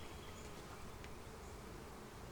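A honeybee buzzes steadily around someone's hands at an open Flow Hive during an inspection, a continuous low drone that stays close and even for the whole stretch, with no voices.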